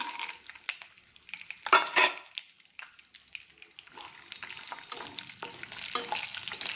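Peanuts and cashews fry in hot oil with urad dal, cumin and fenugreek for a makhana oats upma. A soft, steady sizzle runs throughout, with occasional stirring clinks and scrapes, one louder burst near the two-second mark.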